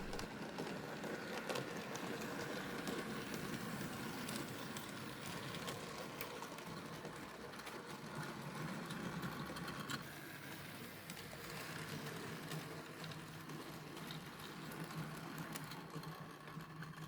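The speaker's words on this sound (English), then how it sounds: "And here comes the small Prairie with the goods train again." A small Prairie steam locomotive hauls a goods train at a spring steam gala, giving a steady, continuous mechanical rumble and clatter that holds loud throughout without pause.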